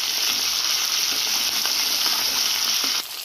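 Chopped tomato, ginger paste, salt and spices sizzle steadily in hot oil for a Bengali bottle gourd and mung dal dish, a loud continuous frying hiss with faint stirring clicks, cutting off near the end.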